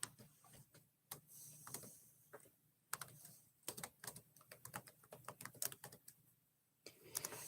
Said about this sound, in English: I will type that into the chat.